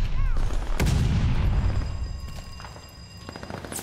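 Gunfire from an enemy gun in a combat video game: a loud, close boom with a long rumbling tail, followed by further sharp cracks and shots amid battle noise.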